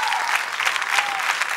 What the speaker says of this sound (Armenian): ծափարում ենք